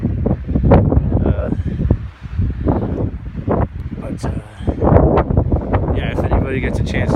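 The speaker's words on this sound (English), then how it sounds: "It's really windy." Strong wind buffets the microphone outdoors along the Continental Divide Trail in Colorado, with loud gusty roaring and rumbling in irregular surges throughout and voices faintly under it.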